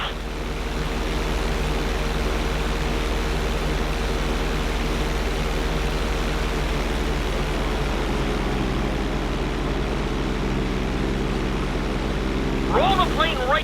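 Steady airplane engine drone from a fixed-wing plane in Grand Theft Auto 5 flight school, held flying upside down; continuous and fairly loud throughout, with a brief voice near the end.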